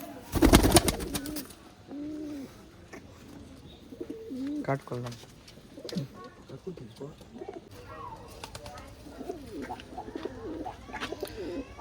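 Pigeons of a fancy breed coo repeatedly in a loft, soft rolling calls under someone talking nearby, with a loud flapping burst near the start.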